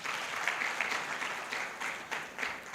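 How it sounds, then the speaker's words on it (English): An audience at an international biomedical and biotechnology conference claps in a short, steady burst. The applause is moderately loud and slightly distant, with individual claps pulsing through. "I think we better give him a better clap than that."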